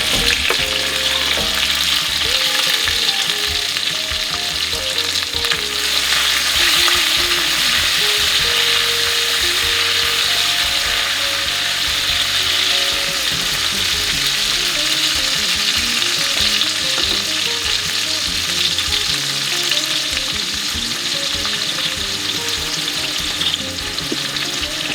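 Tomato frying in a pan for a creamy chickpea dish, giving a steady loud sizzle with stirring and scraping noises throughout, no voices.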